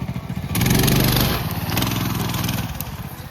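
A small chain-driven Colman minibike engine climbing uphill, loud and close, its buzzing lawnmower-like drone swelling as the throttle opens, then easing back to a steady, pulsing run.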